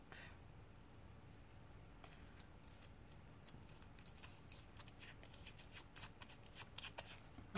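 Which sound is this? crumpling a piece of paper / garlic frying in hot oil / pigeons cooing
crumpling a piece of paper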